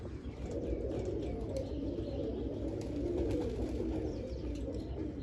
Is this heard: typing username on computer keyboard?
no